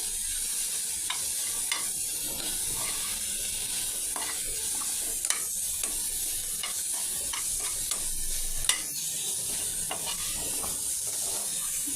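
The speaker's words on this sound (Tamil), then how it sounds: "தேவையான அளவு உப்பு, கிளறி விட்டுட்டு" Bread corn sandwich filling fries in a pan while being stirred with salt added, a steady bright sizzle under scattered scraping clicks of the spoon, close and continuous with no talk.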